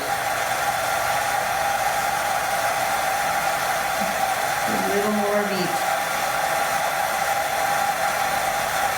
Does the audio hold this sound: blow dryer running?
yes